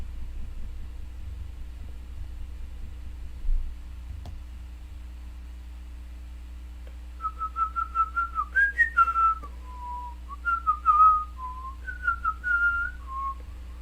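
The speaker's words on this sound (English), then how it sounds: "Sorry for the whistling." A person whistles a short, wavering tune close by, the notes starting after a long quiet stretch and coming in brief melodic phrases over a faint steady hum.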